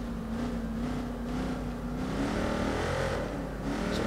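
A car engine in the video game Watch Dogs 2 hums steadily with a low, continuous tone and slight rises in pitch, moderately loud and alone.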